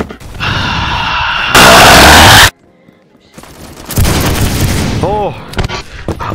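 A frag grenade blasts in the Phantom Forces shooter game as a loud, sharp burst about two seconds in, set among gunfire with voices talking around it.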